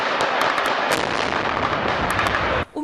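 Rapid, dense bursts of gunfire crackle continuously at mid distance in a city street clash in Mariupol, sharp pops overlapping in a chaotic volley before cutting off abruptly.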